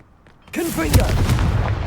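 A sudden loud blast from a Confringo fire spell in a Hogwarts Legacy battle, a booming burst after a brief vocal cry, followed by sustained rumbling and crackling debris.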